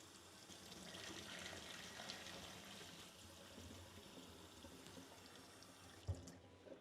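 Steady rushing water from soaking chickpeas pours continuously into a sink, with a short clunk near the end.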